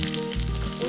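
Mustard seeds and rings of sliced onion frying in coconut oil for a Kottayam-style coconut fish curry tempering, giving a steady, close, loud sizzle that fills the whole moment with no talking.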